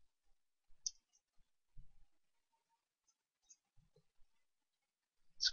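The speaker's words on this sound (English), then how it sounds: "Let's click OK and then just say keep doing that wrong. Rank online. Click apply, click OK." Computer mouse clicks in a quiet room, a few sparse, faint single clicks spread out with long silent gaps.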